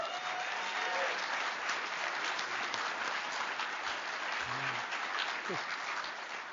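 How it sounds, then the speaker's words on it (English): A room full of people gives a sustained round of applause at a motivational talk, dense steady clapping that fills the whole stretch at an even level, with a faint voice briefly surfacing under it. "give yourself a round of applause"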